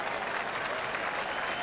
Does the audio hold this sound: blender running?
no